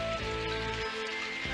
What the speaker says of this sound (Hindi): बारिश शुरू हो गई।